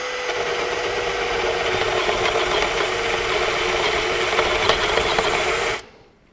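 A HEIMERDINGER LB180 cordless gyroscopic screwdriver drills into fresh material at first speed, with a loud, steady motor whir for almost six seconds before cutting off abruptly.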